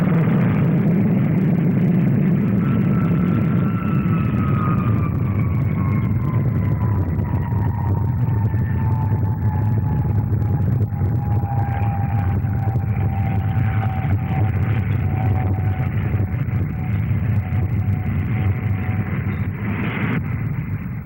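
Bomber jet with Olympus engines climbing almost vertically at the 1959 Farnborough air display, a continuous loud roar heard from a distance, with a slowly falling whine sweeping through it as the aircraft pulls away.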